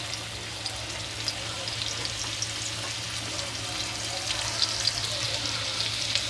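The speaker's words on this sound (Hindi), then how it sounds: "इधर कढ़ाई में हमने तेल गरम कर लिया है। इसमें हम डालेंगे लहसुन अदरक का पेस्ट" Garlic ginger paste frying in hot oil in a kadai, a steady close sizzle with crackling pops and a faint low hum beneath, continuous throughout.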